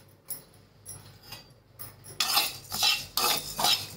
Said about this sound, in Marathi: आता इथे ज्वारी भाजून घेते।